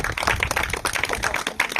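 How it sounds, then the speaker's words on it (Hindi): A crowd at a village street magic show claps loudly in a dense, continuous patter of many hands, with a voice faintly mixed in. "ताली मार दो जोर से"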